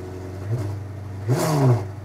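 A car engine revs loudly in two short bursts over a low steady idle, close by.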